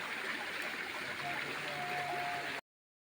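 Steady rushing water at the foot of a nearly drained waterfall, a continuous moderate wash heard from nearby, with faint voices underneath before it cuts off abruptly.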